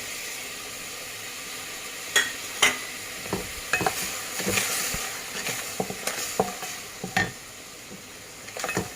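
Spices being stirred and cooked on a low flame in a pan for a Sindhi-style cheese pasta: a soft continuous sizzle broken by sharp scraping clinks of a utensil against the pan, irregular and close, with no talking.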